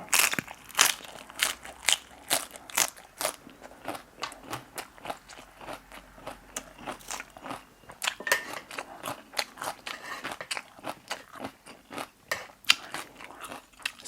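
Crunchy wood ear mushroom eaten with fried chili, heard as close, steady chewing with sharp crisp crunches and wet mouth sounds repeating throughout.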